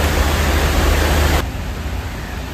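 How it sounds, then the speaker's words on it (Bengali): Heavy rain pouring down at the seaside in Digha, a dense, loud, even roar of broadband noise that drops abruptly to a softer wash partway through, with no voices. "প্রচণ্ড জোর বৃষ্টি নেমেছে"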